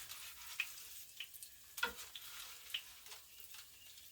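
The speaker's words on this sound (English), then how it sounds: "And lightly put these in the pan." Salmon croquettes sizzle softly in a hot pan with a faint, steady crackle of oil, broken by a few small pops and taps as pieces are set down.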